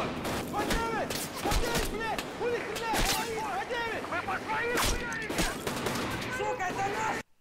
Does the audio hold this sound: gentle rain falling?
no